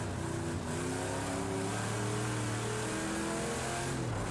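A Camaro Z/28 engine roars steadily in the racing game Project Cars 2, a loud continuous drone with rising and falling revs and shifting pitch throughout.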